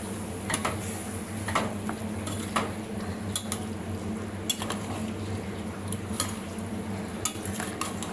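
Namkeen pulao with chaat masala and water being mixed in a pot, with soft stirring and scraping plus recurring sharp clinks of a spoon against the metal, close by and fairly quiet.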